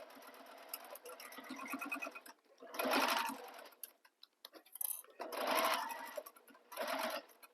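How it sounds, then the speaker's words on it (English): A sewing machine stitches through a thick tote bag's main panel and binding in three loud bursts of rapid stitching, separated by quieter pauses with light handling clicks as the fabric is moved. "I'm just sewing through the main panel and the binding"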